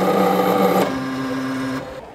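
A creasing machine presses a crease along the edge of a leather watch strap, producing a loud close mechanical whir that steps down to a lower steady hum before cutting off.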